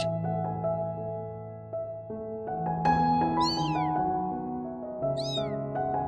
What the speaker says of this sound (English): a weak kitten appeared, making painful cries